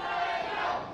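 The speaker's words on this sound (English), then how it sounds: "the crowd showing their appreciations for the accomplishments of El Fuego del Sol" Lucha libre wrestling crowd cheering and roaring in a continuous loud burst of massed voices in an arena.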